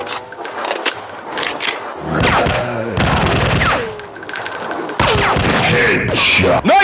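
Rapid gunfire bursts and impacts in the Zombie Fire Strike shooter game, loud and dense with clattering effects and abrupt cuts between busy stretches.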